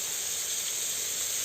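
Curry leaves sizzle in hot oil with onion and salt while crab roast is cooked in a Kerala kitchen, a steady close hiss that holds even and loud throughout with no talking.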